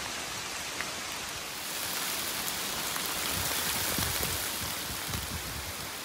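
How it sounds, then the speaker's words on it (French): Steady rain falls in the southern Vosges mountains, a dense hiss of drops on a surface that stays even and fairly close throughout. "Pas le beau temps, il pleut."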